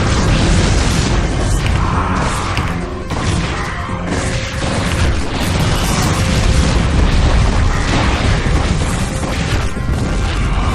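Dense, continuous battle noise from StarCraft as units attack Protoss cannons, with heavy booms, crashes and explosion bursts layered without pause at high volume.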